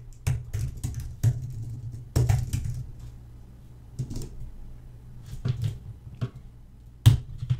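Typing on a computer keyboard while writing Markdown headers in a Jupyter Notebook, with scattered, close key clicks and a few sharper taps arriving in short irregular bursts with pauses.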